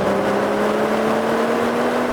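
A 2018 BMW M240i exhaust drones steadily at a held, slightly rising pitch, loud and continuous throughout, with no talking.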